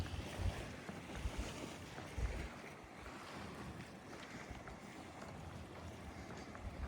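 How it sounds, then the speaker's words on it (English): Wind blows steadily outdoors on a mild morning, a continuous soft rushing with low buffeting gusts against the microphone and no one speaking. "Hear the wind blowing?"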